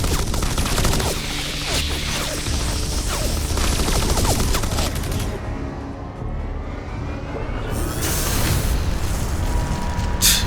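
Dense, loud gunfire from a Marvel video game trailer, with rapid overlapping shots and booms that roll on continuously, dip briefly, then surge again toward the end.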